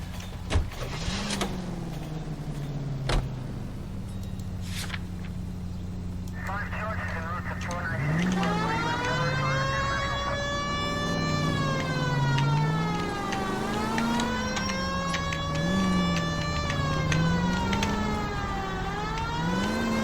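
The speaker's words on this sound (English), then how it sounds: "So, dann geben wir mal Gas mit Sirene." Police car siren from the 1940s Los Angeles video game L.A. Noire, wailing loudly as the car drives, rising and falling in repeated sweeps over engine hum, with a voice talking underneath.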